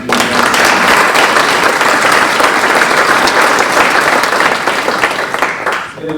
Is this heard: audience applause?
yes